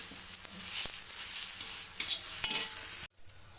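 Onion, green chilli, ginger paste and mint sizzle and crackle steadily in a hot pan, with occasional stirring clatter, before the sound cuts off abruptly near the end.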